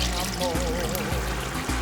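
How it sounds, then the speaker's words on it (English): About a cup of water is poured into a pot of simmering tomatoes, a close gurgling pour running through the whole moment with a faint rising tonal note, alone without speech. "I'm going to add about a cup of water and let it continue to simmer"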